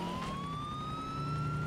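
Police siren wailing in Grand Theft Auto IV as officers chase the player, a steady rising tone held continuously and loud throughout, with faint engine and traffic rumble beneath.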